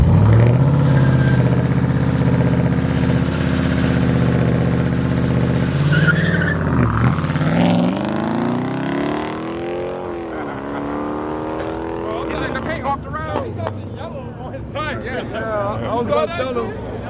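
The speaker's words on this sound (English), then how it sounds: "Burn out." A Dodge SRT roars through a burnout nearby, its engine revving hard and its tires squealing across the whole stretch while the engine pitch rises and falls, with people talking over the noise near the end.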